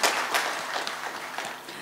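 Audience applause at a Marathi film event for the movie Yek Number: a dense, steady patter of many hands clapping, moderately loud, continuing for a couple of seconds with no voices over it.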